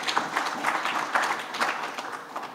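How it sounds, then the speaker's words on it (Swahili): A short burst of applause from an audience at a government event honouring football clubs, a dense patter of hand claps heard fairly close and without speech. "Makofi kwa kampuni ya Jairuti."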